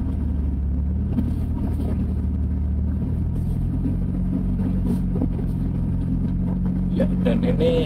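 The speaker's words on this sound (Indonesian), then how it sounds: "Sekarang saya akan coba bawa Mercy ini ke jalan sempit." A Mercedes-Benz C200 W202 creeps through a narrow one-car alley, giving a steady low engine rumble heard from inside the car while someone talks over it.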